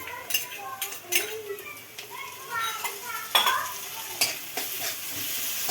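Onion and tomato frying in a pan, with steady sizzling broken up by spoon scrapes and clinks against the cookware, and some faint background voices.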